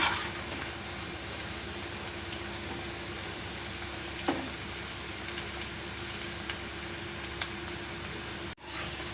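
Banana flower pakoda fry in hot oil with a quiet, even bubbling hiss and a couple of faint clicks, ending in a brief dip near the close; no voices.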